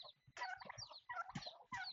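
Chickens raised on a Costa Rican ranch cluck in short, rapid bursts close by, with brief pauses between calls.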